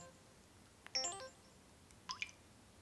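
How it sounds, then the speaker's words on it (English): Soft, soothing chime tones from the LG KC910 touchscreen phone's sound scheme, two brief melodic blips about a second apart, faint and alone against quiet background hiss. "This scores some points for the most soothing sound scheme of any of the handsets I've heard lately"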